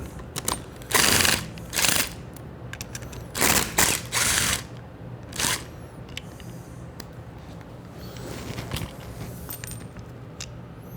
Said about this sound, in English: You just want to remove these two 8mm hex heads, not these Phillips head. It's your 8mm socket.